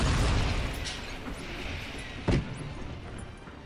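Cannon or gunfire strikes a building in the real-time strategy game Cossacks 3, a rumbling low-heavy battle din with one sharp booming impact midway and scattered fainter pops.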